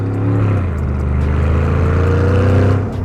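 A loud, deep V8-style engine of a Solus GT rumbles and revs steadily up close on a track, throaty hot-rod low tone throughout with no talking.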